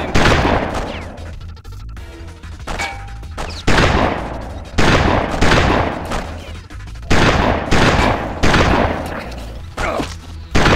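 Loud bursts of gunfire in the Mission: Impossible video game come again and again at roughly regular intervals, each a heavy, booming blast that trails off before the next.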